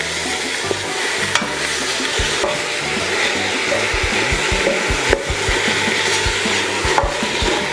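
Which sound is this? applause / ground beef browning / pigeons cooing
ground beef browning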